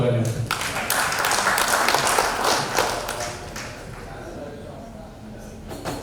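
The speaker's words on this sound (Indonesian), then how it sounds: "Tepuk tangan untuk kita semuanya" Applause from the members and guests at a city council plenary session of the DPRD Kota Malang, a dense, moderately loud burst of clapping that swells early and gradually thins out, with talk underneath.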